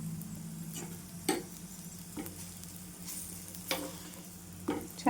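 Onion paratha roasts on a griddle with a steady, low sizzle, broken by a handful of sharper scrapes and taps from a spatula at irregular intervals, close and moderately loud with no talking.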